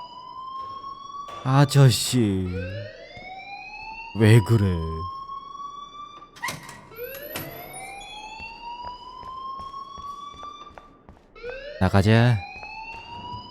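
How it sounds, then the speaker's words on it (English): Alarm ringing in Life is Strange, a loud repeating siren-like wail that rises and falls over about a dozen seconds while people talk over it in short bursts. "please turn off that alarm"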